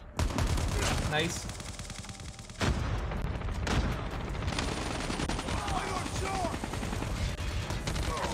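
Rapid automatic gunfire from an AR-SMG hybrid weapon in a Call of Duty match, loud and close in sustained bursts with game effects, while a player briefly speaks.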